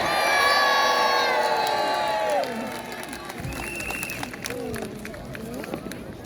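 A crowd of children and adults cheering and shouting at a mini boat battle by the sea, loud at first and tapering into scattered whoops and calls.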